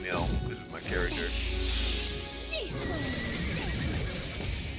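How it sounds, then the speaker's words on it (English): A horse neighs loudly during a mounted attack in the video game Lost Ark, with a long shrill whinny, snorting and hoof clatter mixed with combat effects. "Well, I love that horse attack."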